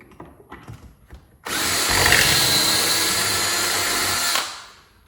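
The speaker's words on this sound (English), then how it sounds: "Essentially, this is how you use the Kreg jig." A power drill bores a pocket hole into MDF board through a Kreg jig: one steady, loud whine lasting about three seconds, close up, then spinning down.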